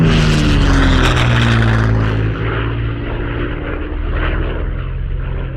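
An old propeller airplane passes close overhead, a loud, droning engine note with a throbbing propeller that slowly fades and lowers as it moves away; no one speaks.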